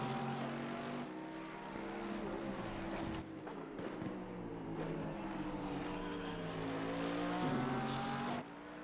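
GT race car engines in Assetto Corsa Competizione at Bathurst drone steadily at high revs, pitches rising and falling through gear changes and passes, sustained and moderately loud with no talk.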